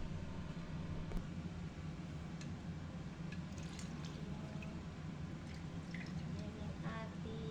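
Water poured into a pot for stewing pork belly with mushrooms and eggs: a steady, close rushing pour with a few small drips and splashes, continuous throughout with no voices.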